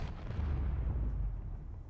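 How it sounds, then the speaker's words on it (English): A rail cannon fires in the space game Space Engineers, one deep rumbling boom that rolls on for about two seconds, heavy low-end and loud, with no talk over it. "Rail cannon."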